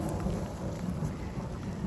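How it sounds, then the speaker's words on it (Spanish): Low rumbling thunder rolls beneath a steady hiss of rain falling outdoors on a muddy path, continuous and moderately distant. "Y ahí hay un trueno."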